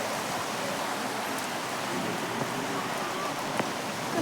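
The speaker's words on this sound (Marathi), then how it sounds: "हे बघा, उन्हात पाऊस येतोय, दिसतंय का?" Rain falls during sunshine, a steady soft hiss of drops on surfaces with a few sharper nearby pattering hits, continuous and even with no talking.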